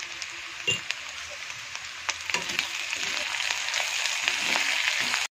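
Onions and ginger-garlic paste fry in a pan for a dry chicken dish, giving a dense, steady sizzle with small pops and crackles that grows slightly louder, then stops abruptly.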